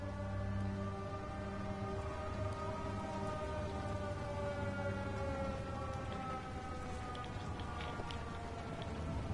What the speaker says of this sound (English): Is that it rains every 40 seconds.